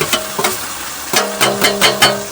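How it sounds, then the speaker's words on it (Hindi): Garlic and onion fry together in a pan for a village-style Chhattisgarhi prawn dish, making a loud close sizzle broken by repeated sharp stirring scrapes that land in an uneven rhythm. "एक बाद लहसुन आ जाए, साथ में प्याज भी आ जाए, सब एक संग बढ़िया तलही"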